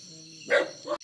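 A dog gives a short, close bark outdoors during a family meal, one or two quick yips heard over a steady background hum.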